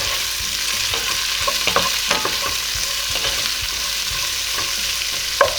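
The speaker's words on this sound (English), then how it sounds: "I'm gonna let these saute" Onions sauté in a pan for chicken pilaf, a steady close sizzle with occasional scraping stirs and soft clinks throughout.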